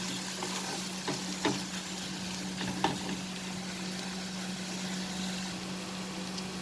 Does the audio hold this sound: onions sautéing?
yes